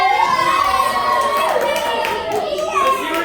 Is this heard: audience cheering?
yes